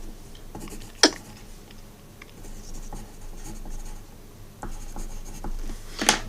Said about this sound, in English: I'm writing this down.